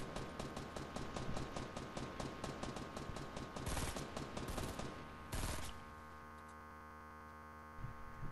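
Rapid enemy gunfire in a Fortnite match, a dense automatic burst of shots in quick rhythm for several seconds, then a couple of sharper blasts before it fades into a low hum.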